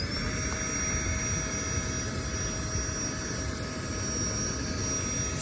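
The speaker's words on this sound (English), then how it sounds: "time to get this little pump to blow this air mat up" A small electric pump inflating an air mattress inside a tent, a steady loud whirring drone with a constant high whine, running without a break.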